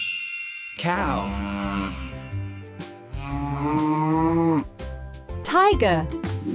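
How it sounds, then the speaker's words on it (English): A cow moos in several long, drawn-out lows over steady background music, with a shorter call near the end. "Cow."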